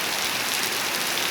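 Steady rain pours onto the ground across a scenic countryside on the road to the city of Canindé, a dense, even hiss that stays close and constant throughout with no voices.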